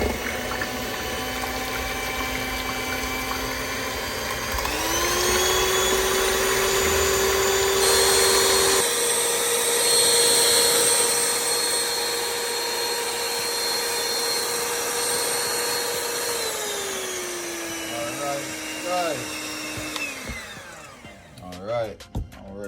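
Electric mixer creaming an eggnog ice cream base of condensed milk, a steady whirring motor whine that rises in pitch as it speeds up, runs loud and even, then slows and stops with a clatter at the end.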